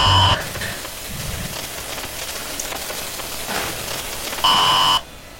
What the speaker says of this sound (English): it's like you can hear the static in the background